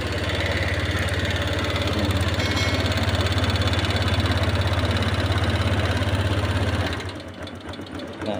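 A motorcycle engine idles steadily after a spark plug replacement, a close, even chugging rumble that cuts off near the end, leaving quieter background sounds.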